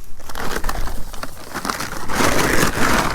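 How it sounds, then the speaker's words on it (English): Plastic feed bag crinkled and rustled up close outdoors by a chicken flock, a loud continuous crumpling with irregular crackling bursts and no talking. "They don't like the sound of that bag."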